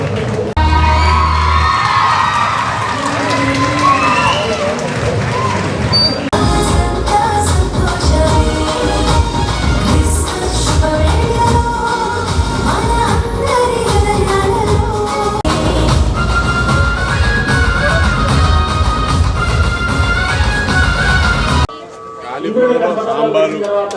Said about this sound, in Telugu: ఒక్కసారి గట్టిగా క్లాప్స్ పడి వాళ్ళని మరొకసారి అభినందిద్దాం